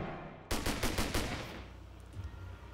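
Gunshots in the Spider-Man Shattered Dimensions video game: a sudden loud burst of rapid shots starting abruptly, several sharp reports in quick succession, then a fading tail with ambient game noise.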